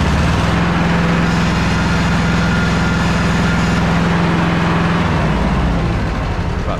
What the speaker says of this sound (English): So now let's rev it up to what we get.